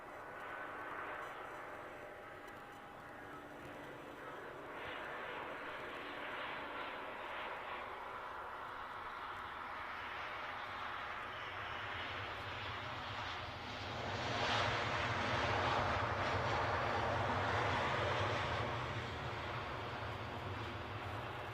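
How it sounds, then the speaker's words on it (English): A jet airliner roars steadily on its landing approach at Edinburgh airport, a continuous broad engine rumble heard from a distance that swells louder toward the end, with no talk. "Let's get this plane down."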